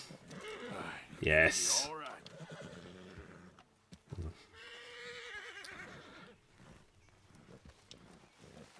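A horse in Red Dead Redemption 2 gives a loud, shrill neigh, followed by snorting and game ambience, with a voice speaking briefly over it.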